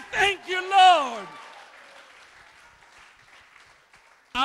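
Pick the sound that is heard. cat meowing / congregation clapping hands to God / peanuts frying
congregation clapping hands to God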